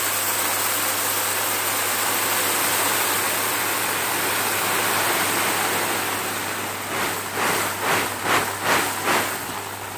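Water pours into a koi pond filter in a steady, loud rushing stream, then a few sloshing surges break the flow toward the end.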